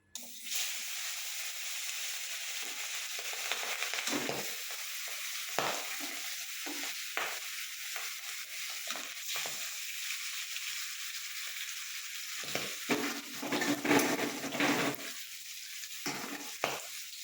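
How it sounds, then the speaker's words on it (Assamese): Fish frying in oil in a pan, a steady close sizzle running throughout with occasional louder bursts and stirring or scraping sounds, no talking. "প্ৰথমে আমি মাছখিনি ধুনীয়াকৈ ভাজি ল'ম।"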